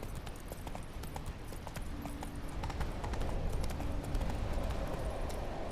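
Hooves of the horse Roach galloping in The Witcher 3, a rapid rhythmic clip-clop of sharp hoof strikes over low rumbling background, continuous and growing slightly louder.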